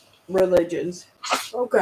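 One sharp sneeze bursts out close by in the middle of casual conversation, with voices just before and after it.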